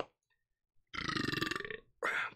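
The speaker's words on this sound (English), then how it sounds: "Burping." A long, loud, close burp rumbles for about a second, followed by a second shorter burp after a brief pause.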